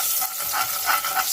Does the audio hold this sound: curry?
yes